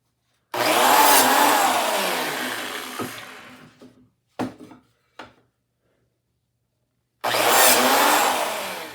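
A biscuit joiner cuts a slot in reclaimed wood. A loud whirring spin-up bites in and winds down, a few short knocks and clunks follow, then the tool whirs up loudly again.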